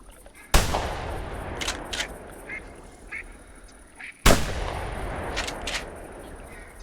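Two loud, close shotgun blasts about four seconds apart in theHunter, each with a sharp crack and a long decaying rumble, while faint duck quacks and calls carry on in the background.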